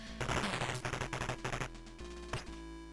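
Rapid bursts of gunfire from the Commodore 64 version of the game Commando, loud and rhythmic over a steady electronic drone, with a separate sharp shot near the end.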